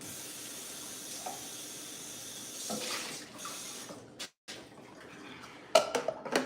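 Water runs from a tap into a sink as a juicer is rinsed, a steady hiss of flow with clatters of the juicer parts knocking about, then a brief cutoff and a few sharper clanks near the end.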